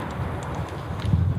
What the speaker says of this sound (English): I'm just walking my goat.